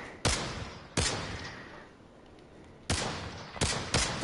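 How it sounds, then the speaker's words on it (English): Gunfire in the VR shooter Pavlov VR2: five sharp, loud shots spaced irregularly, two close together near the end, each with a short decaying tail over a quiet background. "Stop shooting at us."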